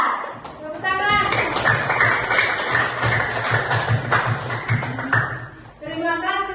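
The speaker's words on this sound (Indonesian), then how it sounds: "Tepuk tangan." Group of students clapping in a classroom in applause for a presenting group, a dense burst of hand claps under a teacher's voice that continues throughout.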